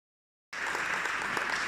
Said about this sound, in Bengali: যদি ভালো লাগে তাহলে একটা করতালি হয়ে যাক।